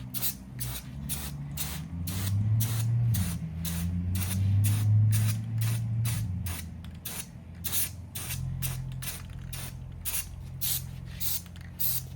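An aerosol can of adhesion promoter is sprayed onto a car's cowl grill in many short, rhythmic hissing bursts, nearby and fairly quiet, with soft handling noise underneath and no talking.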